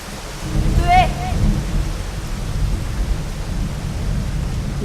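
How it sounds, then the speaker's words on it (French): Steady rain and a low thunder rumble wash through a French audio drama scene, with a brief warbling tone near the start, with no speech over the storm. "Et cette pluie qui n'en finit pas."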